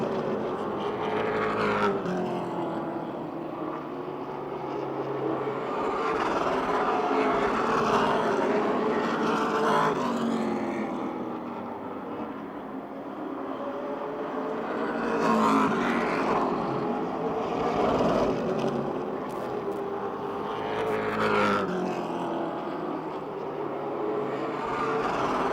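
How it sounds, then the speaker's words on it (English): Race cars lapping at Motordrome Speedway, a continuous engine roar that swells and fades in waves as packs pass roughly every five to six seconds, loud and sustained. "A couple of orange race cars have been glued side by side for a full 3 laps."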